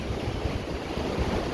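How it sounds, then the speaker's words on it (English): Atlantic ocean waves roll and wash on a windy, rainy day, a continuous broad roar of surf with wind buffeting the microphone throughout. "The sounds of the waves are so amazing,"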